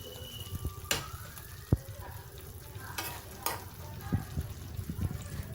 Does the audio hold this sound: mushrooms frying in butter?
yes